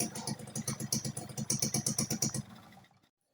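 A motorcycle engine idles steadily close by with a fast, even pulsing chug, then cuts off and fades to silence near the end.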